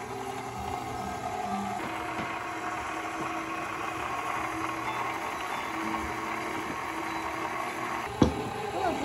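A kitchen mixer works flour into Easter bread dough with a steady, low mechanical whirring and faint rattling that carries evenly throughout, then ends with a sharp clack near the end.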